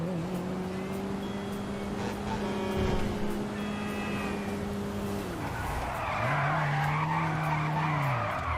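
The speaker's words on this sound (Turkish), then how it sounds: "Oha oğlum bu nasıl drift atıyor böyle?" A car drifting in GTA 5, its tires squealing in long sustained skids over the engine's drone. One squeal breaks off and a second rises, loud and steady, with no voices.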